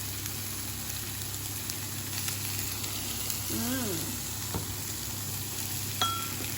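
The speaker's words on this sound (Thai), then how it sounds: "ก็ผัดให้เข้ากันนะคะ" Shallots and shrimp are stir-fried in a pan, giving a steady sizzle with occasional scraping of the utensil, moderately loud, while someone speaks over it.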